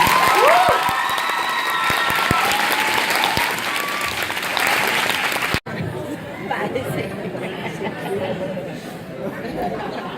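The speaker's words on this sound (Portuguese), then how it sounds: "eu só posso pedir uma salva de palmas pra ti" Enthusiastic clapping from a large audience at a school tribute to teachers, with scattered cheers and whistles, then the applause thins into a murmur of chatter.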